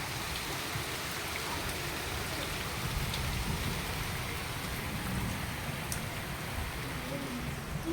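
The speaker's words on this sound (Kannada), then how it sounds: "ಮಳೆ ಐತಿ" Rain falls steadily outdoors in a village, a dense, even wash of drops that stays constant and fairly loud from start to finish.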